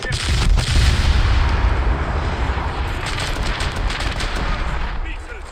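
Naval shells fire in a warship video game, a continuous loud rumble of booming cannon blasts with low-end weight and sharp transients, under game voice callouts.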